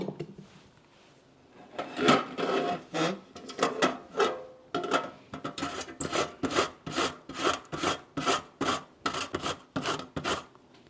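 Zucchini rubbed by hand against a grater: steady, rhythmic rasping strokes, close and fairly loud, repeating about twice a second with brief pauses.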